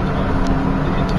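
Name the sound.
car driving on a tollway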